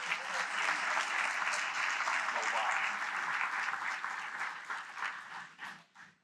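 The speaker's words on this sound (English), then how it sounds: "Big round of applause." A banquet hall audience claps in a full, sustained round of applause at a scholarship banquet, holding steady before tapering off into scattered claps near the end.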